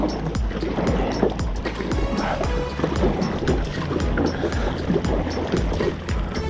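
Canoe or kayak paddle strokes dipping and pulling through open water near a lighthouse, a steady repeated rhythm of close splashes over constant wind noise on the microphone.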